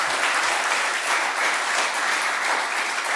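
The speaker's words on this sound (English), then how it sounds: "Can we have a round of applause?" An audience at a mayor's news conference in Erie County gives a round of applause, a dense, steady wash of many hands clapping throughout, fairly loud and without talk.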